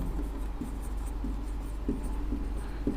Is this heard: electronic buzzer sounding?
no